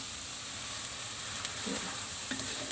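Thai curry paste for a shrimp curry is stir-fried in a pan, making a continuous close sizzle with a few soft scraping stirs and no voices.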